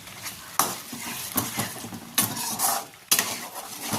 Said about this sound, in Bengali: এটাকে আমি 5-7 মিনিটের মতো কষাবো।